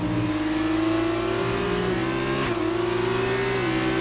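Onboard Formula 2 race car engine on the final lap of the Hungary feature race, a loud, steady high-revving drone with brief pitch dips at gear changes, close and continuous with no talk.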